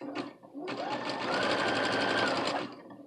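A sewing machine stitches a button onto fabric, run by foot pedal after the first two stitches are turned by hand; a brief start, then a steady close, loud whir lasting about two seconds before stopping.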